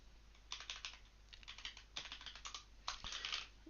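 Rapid typing clatters on a computer keyboard in quick bursts of close keystrokes with brief pauses, with no voices.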